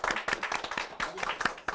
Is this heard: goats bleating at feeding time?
no